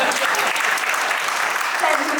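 Audience applause fills a poetry recital hall in Ludhiana, steady dense clapping from a large crowd throughout, with faint voices mixed in.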